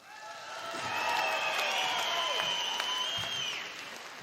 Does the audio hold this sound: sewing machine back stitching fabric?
no